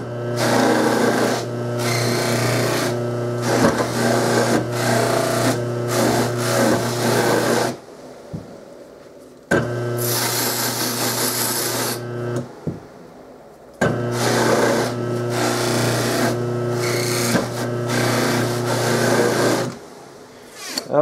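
Buffing wheel on a motor being dressed with a rake, a loud steady motor hum with harsh scraping and rattling bursts, interrupted twice by brief quiet gaps as the machine stops and restarts.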